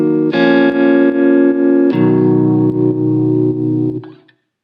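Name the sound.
software jazz guitar through clean amp effect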